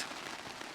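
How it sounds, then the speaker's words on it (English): Rain drums steadily on a canvas tent during a winter camping night, a dense, close patter filling the short moment with no voices. "Rain, rain, rain."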